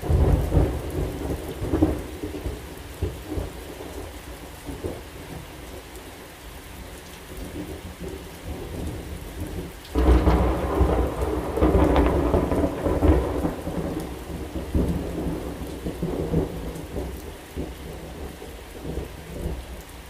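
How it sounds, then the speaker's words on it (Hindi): Thunderstorm in Lahore with heavy rain pouring steadily onto surfaces, loud and close, with rumbling thunder swelling around the midpoint and continuing; no voices. "बारिश तूफान बहुत ज़्यादा आ गया"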